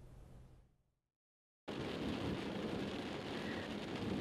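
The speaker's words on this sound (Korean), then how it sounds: "현재 기압골의 영향으로 전북 곳곳에 비가 내리고 있습니다" Heavy rain pours steadily during a storm in North Jeolla, South Korea, a dense continuous wash that starts abruptly after a short silence and carries on loud and unbroken.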